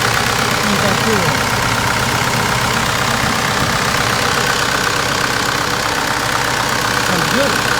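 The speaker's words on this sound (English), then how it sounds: "Engine model is 4M50 with turbo" A 2005 Mitsubishi Fuso Canter's 4M50 turbo intercooled diesel engine idles steadily and loudly at close range, a continuous even rumble with no clear breaks.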